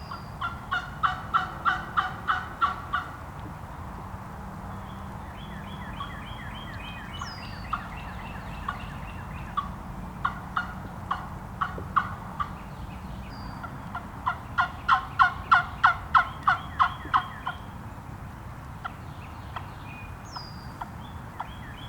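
A handheld wing bone turkey call yelps in sharp, clucking runs of rapid notes, pausing between series, in the woods over a constant low hum of distant traffic.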